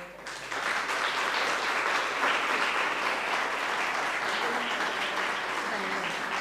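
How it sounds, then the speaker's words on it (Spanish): A crowd gives sustained applause for Amelia Fernández, mayor of Carreño, at a public event: after a brief quiet start, thick continuous clapping swells and holds steady, with faint voices underneath. "Un aplauso, por favor."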